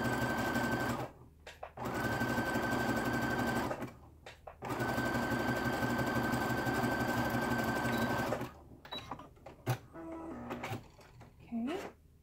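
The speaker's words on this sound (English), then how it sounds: "I'm going to flip this serger tail under so I can catch it when I top stitch." A home sewing machine top-stitches fabric in long steady whirring runs, close and loud, broken by short pauses and small clicks as the fabric is adjusted.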